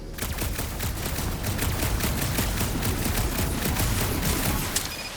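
Sustained rapid gunfire in Marvel's Guardians of the Galaxy, a steady stream of close, loud shots with a brief sharp crack near the end, and no talk over it.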